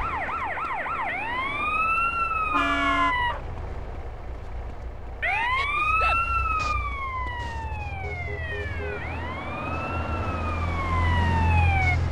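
A police car siren in the video game GTA San Andreas wails loudly in repeated sweeping cycles close by, pausing briefly before resuming over a low engine rumble.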